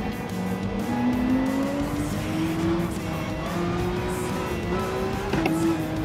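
A race car in the Gran Turismo 7 video game holds a steady rising engine drone while its tires squeal and skid through a long slide, loud and continuous with no talking.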